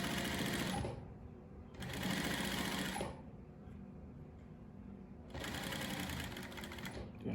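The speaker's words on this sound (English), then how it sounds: "then you stitch at the edge this way, right on the line" A sewing machine stitches along the edge of a fabric cargo pocket in close, loud bursts, running in three separate stretches with quieter pauses between as the work is repositioned.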